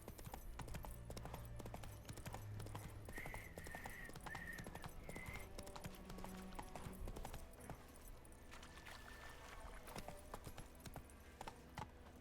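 Horse hooves clip-clopping steadily in The Witcher 3, a brisk rhythmic trot of game hoofbeats over ambient background sound, with short tonal calls in between and no talk.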